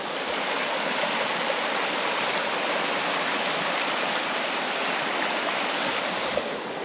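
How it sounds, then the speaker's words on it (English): A creek with running water at a campsite near Santa Fe, New Mexico, rushing in a steady, dense broadband wash that holds even and fairly loud throughout, with no voices. "this is actually like my first time camping out west on a creek with running water"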